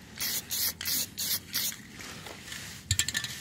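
A spray paint can hisses over sanded rust on a BMW 325i in several short, close bursts, followed by a brief rattling scrape.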